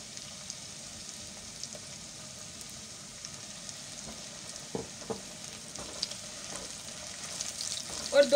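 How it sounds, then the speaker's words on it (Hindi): Tomatoes, onions and green chillies frying in a pan for potato bhujia curry, a soft continuous sizzle with intermittent scraping and stirring sounds that grow busier toward the end. "और 2 मिनट तक इसे इसमें भूनेंगे।"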